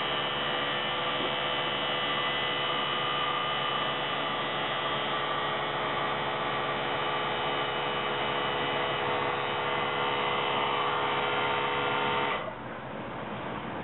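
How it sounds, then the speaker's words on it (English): An airbrush air compressor runs steadily, building pressure with a constant close electric hum and whir that continues unbroken for about twelve seconds before the tone abruptly drops and softens near the end. "Got to get my compressor back up to the PSI that it needs to be at."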